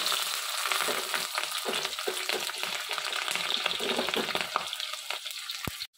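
Garlic, ginger and green chilies frying in oil for a river fish curry, a close crackling sizzle with scraping stir strokes, ending in a sharp tap before quiet.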